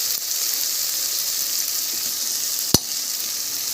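Peanuts fry in a pan of hot oil for a masale bhat, with a steady soft sizzle throughout and one sharp clack near the end, no talk.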